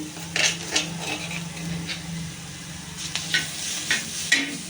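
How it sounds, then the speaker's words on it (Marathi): Green chillies and browned onion frying in a pan, a steady sizzle under a spoon stirring and scraping, with several clinks against the pan; nobody talks. "कांदा लाल झाला आहे त्यामध्ये आपण हिरवी मिरची टाकून घेऊ हिरवी मिरची टाकते"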